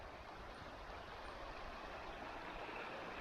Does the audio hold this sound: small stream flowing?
yes